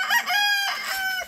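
A native chicken rooster crows once, close and loud, a short strained cock-a-doodle-doo call.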